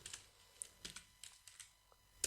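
Code typed on a computer keyboard: a quiet run of light, irregular key clicks spread over a couple of seconds, with a sharper tap at the end and no voice.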